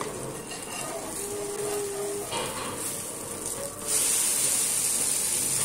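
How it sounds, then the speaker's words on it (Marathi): Ragi dosa frying on a hot pan, a steady hissing sizzle throughout that grows louder and brighter partway through, with faint utensil scrapes and no talk. "दोन्ही बाजूने आपल्याला डोसे फ्राय करून घ्यायचे आहेत"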